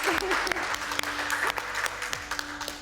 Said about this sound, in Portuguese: palmas por Vinícius, palma para os poetas